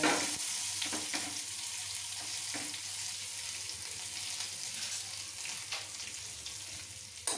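A tempering of broken dried red chili, curry leaves and asafoetida fries in hot oil for a white coconut chutney, giving a soft, steady sizzling hiss with a few faint stirring clicks, quiet and close.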